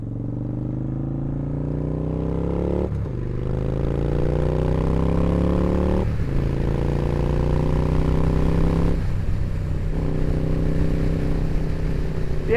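A cruiser motorcycle rides along a road, its engine a steady low drone with harmonic tones that rise and fall through several gear changes, each marked by a brief dip before the pull resumes, close and loud throughout.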